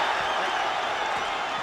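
A boxing arena crowd at a fight between Erik Morales and Zahir Raheem roars and cheers in a dense, continuous wash of noise, loud and steady throughout with no distinct voices standing out.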